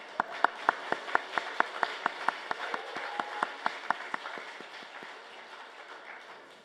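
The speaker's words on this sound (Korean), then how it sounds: "한 번 더 큰 박수 하겠습니다" A Korean church congregation at a Sunday morning worship service claps together in a steady, even rhythm, the crisp unison claps gradually blurring into looser applause that fades out.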